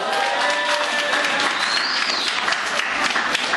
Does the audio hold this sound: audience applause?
yes